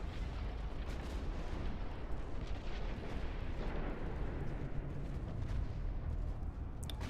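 Battleship guns fire during a naval battle in the Ultimate Admiral Dreadnoughts strategy game, a dense continuous roar of booming salvos and rumbling explosions, loud and sustained with no voices.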